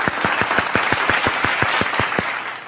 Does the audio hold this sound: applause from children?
yes